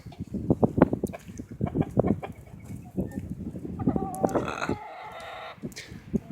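A plucked, bare-skinned ornamental rooster clucks nearby in quick throaty bursts, then lets out a higher, drawn-out call.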